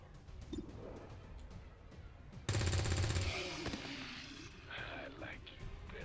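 Soldier firing at a zombie in XCOM 2, a loud burst of rapid gunfire lasting under a second, with ambient game sounds and faint background tones.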